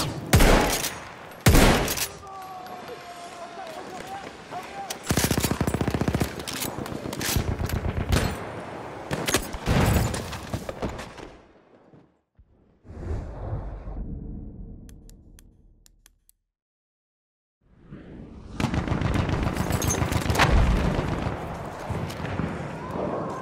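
Enemy machine gun fire in a video game, bursts of rapid shots that come and go, loud and close, then a quiet gap before the firing resumes.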